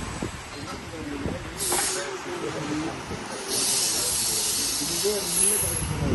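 Bursts of loud steam hiss come from a shunting train locomotive, rising and falling twice, with someone talking throughout.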